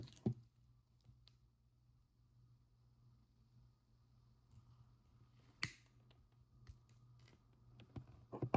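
Small jewelry chain cut down to two links, with sharp, sparse snips and clicks of the tool over a quiet background hum, one loud snap near the middle and more near the end.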